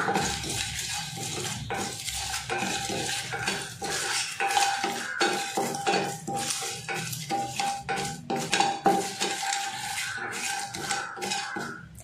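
Bay leaves, cardamom pods and cloves dry-roast in a pan while a utensil stirs and scrapes, producing busy, continuous metallic clatter with a faint sizzle underneath.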